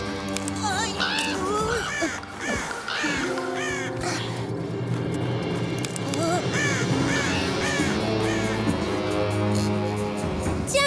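Crows caw repeatedly in an animated animal cartoon, harsh calls rising and falling over a busy, continuous music score with little pause.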